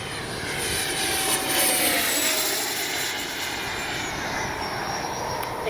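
A Freewing 80mm L-39 RC jet makes a fast pass down a runway into the wind, its ducted-fan whine sweeping past steadily over several seconds at moderate distance.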